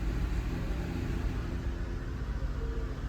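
A car engine held at a steady rev of about 2,000 RPM in a lab setting, a close, continuous low rumbling drone that stays even throughout without talking.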